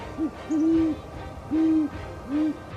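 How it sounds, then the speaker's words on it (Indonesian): A great horned owl gives a series of deep, soft hoots, a short note followed by a longer drawn one and repeats, evenly spaced and clear against quiet background hiss. "Suara paling khas adalah suara mendengung"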